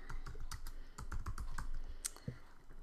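Computer keyboard keys clatter as a folder name is typed in Moodle, a quick, irregular run of close, crisp clicks with brief pauses between bursts.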